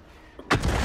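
An M40/M43 self-propelled artillery gun fires in World of Tanks: a single sudden, loud booming blast that breaks a quiet background and keeps rumbling with a broad roar through the end.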